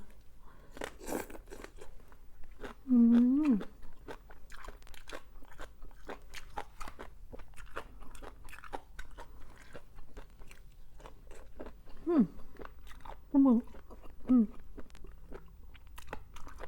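Small squid tentacles, bought wilted at a market, being chewed up close with repeated soft crunching and biting, a few short hums and vocal sounds breaking in between bites.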